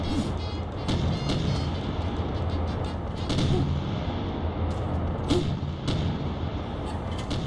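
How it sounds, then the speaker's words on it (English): Several sharp booming blasts from video game explosions at irregular intervals over a constant background rumble. "These explosions are too damn loud."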